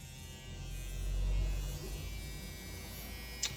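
A very lightweight handheld needle machine with three power settings, running with a low, steady electric hum and buzz at a quiet, close level, ending in a brief small click.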